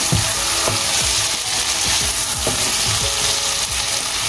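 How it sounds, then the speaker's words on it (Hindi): Chicken with Sindhi biryani masala, yogurt and tomato sizzles steadily in a hot pan, with regular scraping and stirring strokes of a spoon and no talk. "अब मैं इसको खूब अच्छे से भून लूँगी"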